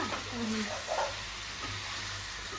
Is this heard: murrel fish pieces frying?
yes